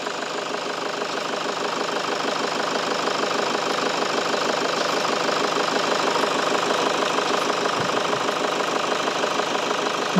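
A vehicle engine idles steadily for the whole stretch, a close, even, droning rumble with a fast regular pulse and no revving, heard alone without talk.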